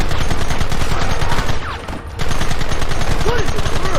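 Rapid gunfire fills the Red Dead Redemption video game, a loud, dense fusillade of overlapping shots. It pauses briefly and then resumes, with a shouted voice underneath.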